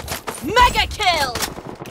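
Gunfire in the shooter Blood Strike, with clustered sharp reports around a tonal game announcer voice.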